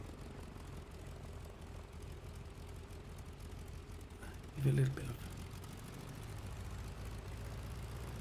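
A Stearman biplane's radial engine in Microsoft Flight Simulator 2020 drones steadily and low throughout, with a voice briefly speaking over it.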